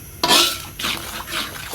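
A spice mixture with salt is stirred in a pan for a chickpea curry, giving a few close, scraping sweeps of the spoon against the pan in quick succession.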